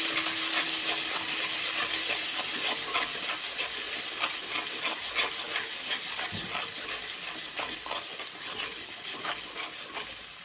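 Kashmiri chili powder, salt and turmeric sizzle in a hot pan while the masala for a khoira fish curry is stirred. The hiss is steady and close, with light scraping clicks throughout.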